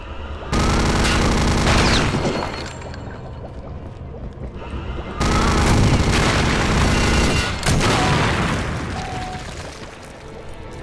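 Gunfire in Return to Castle Wolfenstein, the Deathshead's Project level of a mod: two long, loud, dense bursts of shooting a few seconds apart, each tailing off under a noisy game soundscape.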